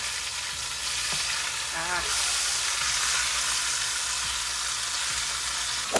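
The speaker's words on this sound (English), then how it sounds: "now it's going to sear the other side" Pot roast meat sears in a hot pan after being flipped, giving a steady, loud, dense sizzle throughout, with a few faint clinks and scrapes underneath.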